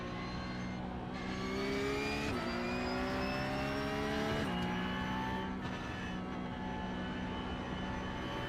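A Porsche Cup race car engine in iRacing revs steadily and loudly, climbing in pitch with sharp drops at each gear change, a continuous close-up drone with no talking.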